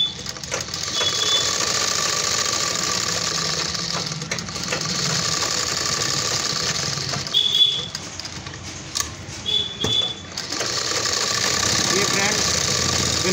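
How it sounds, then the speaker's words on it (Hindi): A sewing machine stitches the neckline of a lehenga blouse in long steady runs, with a few short pauses and handling clicks between them. "अब दूसरी साइड सिलाई लगाने वाले हैं।"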